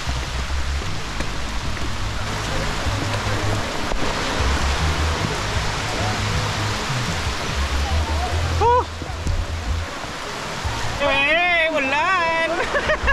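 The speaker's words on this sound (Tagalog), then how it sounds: "ulan." Steady rain pours on a muddy, slippery mountain trail on Mount Igatmo, a dense hiss that fills the whole stretch. Low rumbling gusts sit underneath, and voices and brief wavering sounds break through near the end.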